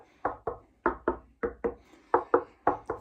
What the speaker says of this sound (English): Let's do the knock test while we're here.